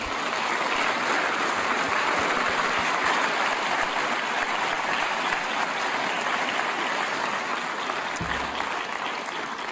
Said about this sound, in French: Je crois qu'on peut applaudir aussi